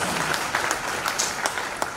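A room full of people at a Christmas church service applauds, a dense, steady clatter of clapping at moderate loudness throughout, with no speech.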